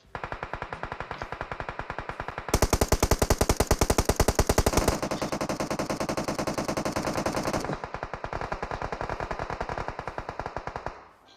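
Rapid automatic gunfire from PUBG Mobile rattles in a dense, loud stream of evenly spaced shots, heaviest and fastest through the middle before easing back to a steadier burst.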